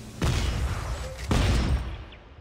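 Gunfire in the sci-fi horror video game Dead Space 3: two heavy, booming shots about a second apart, each with a deep low thud and a short fading tail.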